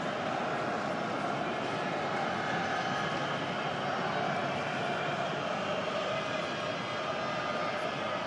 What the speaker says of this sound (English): Sounds like a jumbo jet roaring overhead right now.